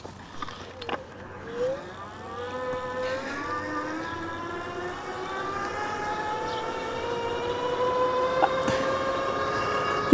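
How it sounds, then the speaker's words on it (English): A ONEBOT S2 Mini electric bike's hub motor whines on an uphill ride, a thin tonal hum climbing in pitch over the first few seconds then holding steady, with faint road and wind rush underneath and no talking. "You can hear the motor."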